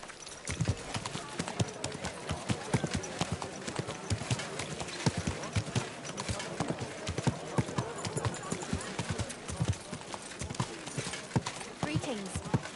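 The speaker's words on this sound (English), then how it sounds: "My, what a beautiful horse." Horse hooves clip-clop steadily in the video game Kingdom Come Deliverance II, a brisk, even rhythm of close, moderately loud hoofbeats, with a voice speaking over them.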